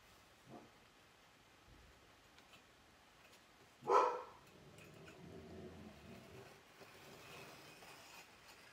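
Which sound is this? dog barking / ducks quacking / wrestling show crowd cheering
dog barking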